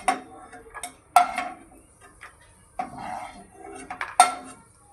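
Metal utensil clinks and scrapes against a pan as fried cashews and almonds are moved onto a plate, a few sharp clinks spaced out over quiet background while making carrot halwa.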